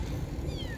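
A cat gives a short, faint, high meow outdoors during a group bike ride, nearly buried under steady wind and road rumble.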